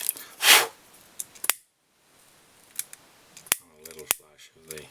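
Scissors trim synthetic fly-tying material on a small pike-style baitfish fly, a sharp close snip followed by a few light clicks and handling taps, quiet otherwise.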